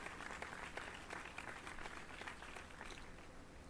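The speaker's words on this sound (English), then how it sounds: "I don't like the random applause" Random crowd applause heard in the horror video game The Crooked Man, a steady wash of many hands clapping at moderate level throughout, with no voices over it.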